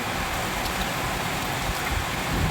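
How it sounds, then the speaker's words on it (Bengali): Heavy rain pours steadily outside a house, a dense, even hiss that holds at the same level for the whole stretch, with no voices over it. "প্রচুর বাইরে বৃষ্টিতে ঝমঝমকে"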